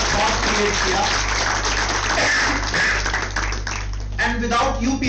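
An audience at a college conference for breastfeeding week claps in a steady patter that softens slightly midway, while a voice speaks over the applause.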